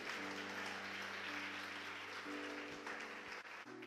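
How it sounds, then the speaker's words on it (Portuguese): A church congregation applauds during a sermon, a faint, steady rush of clapping from many people spread across the room, with a low sustained hum running beneath it. "Você pode aplaudir ao Senhor?"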